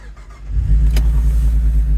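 Alfa Romeo Brera 3.2 V6 coupe, low mileage, cranks and fires up after a brief quiet start, settling into a loud, steady idle close by.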